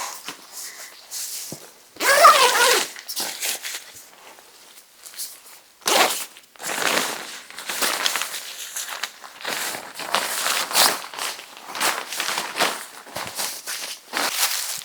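A backpack zipper is pulled in several bursts, some short and some longer, close up with rustling fabric between the pulls, and no voice is heard.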